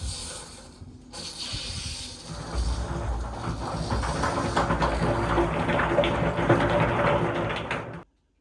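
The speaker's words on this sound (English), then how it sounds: "we're going to go ahead and attach a drain so that we can go ahead and start draining this out" Water draining out of a hybrid water heater through an attached drain, a rising hiss and gurgling rush that builds after a brief quiet start, holds steady and close, then cuts off abruptly near the end.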